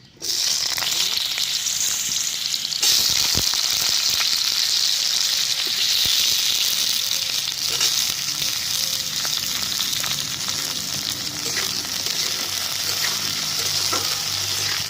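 Potatoes hit hot oil that already holds black cumin and dried red chillies, raising a loud, steady, close sizzle that keeps up without a break, with faint stirring noises now and then.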